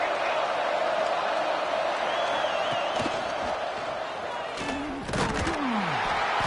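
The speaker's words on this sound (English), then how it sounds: "the crowd really getting into it" A football game against Oregon on a third-down play, with a dense, sustained crowd roar filling the whole stretch, plus a few sharp thuds and short whistle-like tones cutting through near the end.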